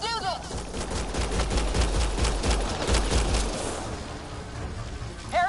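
Rapid bursts of sustained automatic gunfire rattle in a Mass Effect Andromeda firefight, dense and loud for several seconds before easing off, with voices in the game calling out around it.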